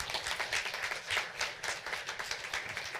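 An audience at a talk and conversation event breaks into brisk applause, a dense, even patter of many hands clapping close by for a few seconds.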